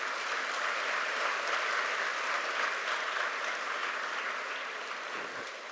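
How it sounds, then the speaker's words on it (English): Sustained applause from an audience at a university freshers induction programme, an even wash of many hands clapping that fades slightly toward the end. "please give a big applause to your parents for their sacrifice"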